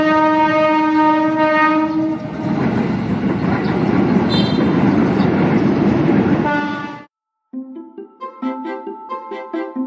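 A commuter train in Indonesia rumbles past with a long, loud horn blast, then the noise cuts off and a rhythmic clatter of cars follows.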